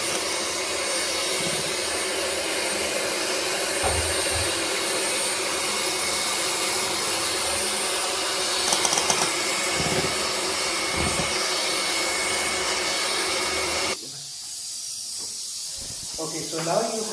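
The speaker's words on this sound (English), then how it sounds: "Now I have used an electric beater so that it's much faster." An electric beater whirs steadily while whipping caramel custard, a loud continuous buzzing drone that cuts off near the end, with faint talk underneath.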